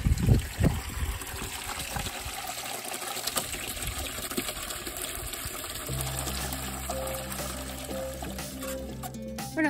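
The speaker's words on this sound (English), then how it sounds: "We're gonna fill up this little bucket here for the chickens and ducks and geese." Water running from a tap or hose into a small bucket for chickens, ducks and geese on a farm, a steady splashing, trickling stream that keeps going throughout, with the pitch shifting as the bucket fills.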